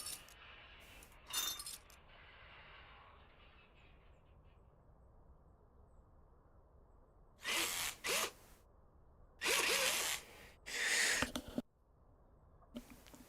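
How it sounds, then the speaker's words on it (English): An impact wrench in the Car Dealer Simulator video game during car restoration work, giving three short, loud mechanical rattling bursts in quick succession after a quieter stretch. "So handy having this impact wrench thing."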